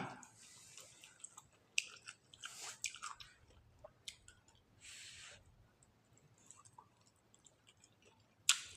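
Close, quiet chewing of stir-fried Mama instant noodles with Chinese cabbage and tomato, soft wet bites and smacks repeating irregularly with short pauses between mouthfuls.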